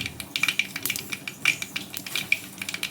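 Onions frying in hot oil after curry leaves splutter, giving a dense, bright crackling sizzle with quick popping bursts and faint utensil clinks, close and steady throughout.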